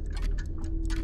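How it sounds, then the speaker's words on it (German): Many clocks tick in the Madison horror video game, a busy overlapping patter of crisp ticks at uneven intervals over a steady low hum. "Aber da höre ich ganz viele Uhren."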